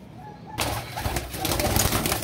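Teddy pigeons coo in soft, repeated low calls, close by and continuous, with no one talking over them.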